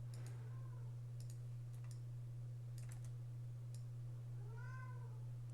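A cat meows a few times, soft and fairly close, over a steady low electrical hum with scattered keyboard clicks.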